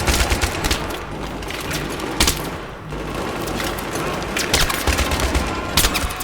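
Gunfire in Battlefield 3, with rapid bursts of automatic weapons and sharp single shots cracking out in uneven clusters, loud and close, over a dense battlefield background.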